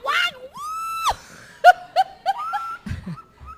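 Three loud, strained vocal cries imitating anger, one long held wail followed by short sharp yelps, with laughter-like bursts and studio chatter at a French-language radio interview.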